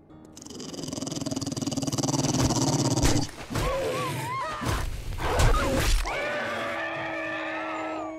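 Hostile dogs in the survival video game 7 Days to Die snarl, growl and bark as they attack, with loud scuffling impacts and yelps building to a frantic burst before fading into a lingering tone.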